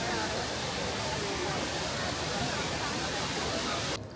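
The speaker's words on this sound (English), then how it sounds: "after we saw the waterfall" Indoor waterfall at Changi Airport, Singapore, roars as a dense, loud, unbroken rush of falling water that fills the space, with faint crowd murmur beneath, then cuts off abruptly near the end.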